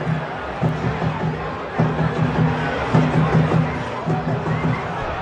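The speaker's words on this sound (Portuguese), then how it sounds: "Um batuquinho ali, uma cornetada ali, a vibração da torcida do Sport" Sport fans inside Vila Belmiro stadium during Santos vs Sport, a Brazilian Série B match, make a distant crowd roar with a steady, rhythmic drumbeat carrying through it.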